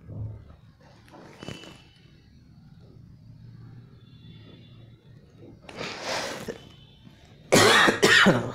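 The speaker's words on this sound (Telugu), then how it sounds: "సారీ ఫ్రెండ్స్ నాకు కొంచెం కాఫ్ అయింది." A person coughs and clears their throat indoors, with a couple of loud, harsh bursts near the end after a quieter stretch of low room rumble and a faint earlier throat sound.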